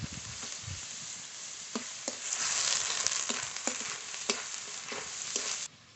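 Onion, ginger, garlic, cumin and green chili paste fry in a pan for yogurt katla fish curry, with a constant close sizzle and regular sharp ladle taps and scrapes throughout.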